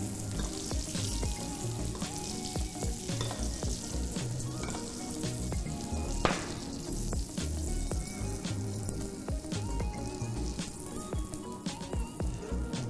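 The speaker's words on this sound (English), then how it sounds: "Always feel free to even give your vegetables a little bit of a basting." Vegetables sizzle and crackle in a hot pan while being basted with fat, a steady close frying hiss with scattered pops and light spoon clatter, no voices.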